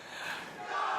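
Crowd cheering and yelling at a Splatoon 3 esports tournament at Riptide 2024, a steady loud roar of many voices that swells toward the end of the brief moment.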